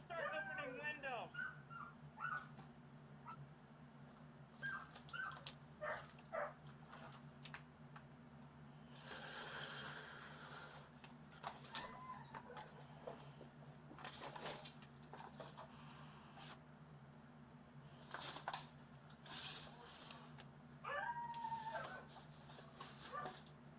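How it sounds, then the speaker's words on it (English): Malnourished dogs in a neglected house whimpering and yipping intermittently, high thin whines over a steady low hum, with scattered clatter and muffled voices in the room. "More dogs. 3 dogs. All malnourished."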